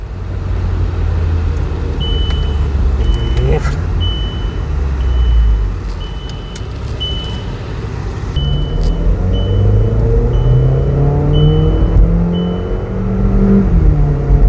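A modified Volkswagen Polo GT TSI accelerates hard, its engine rumbling and climbing through quick gear changes, loud and close, with faint repeated high beeps in the background.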